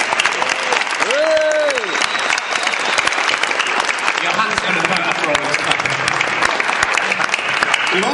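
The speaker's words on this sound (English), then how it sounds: "Round of applause to the ninjas" A live audience at a Linux podcast show applauds loudly and steadily, with whooping, cheering voices and shouts rising over the sustained clapping.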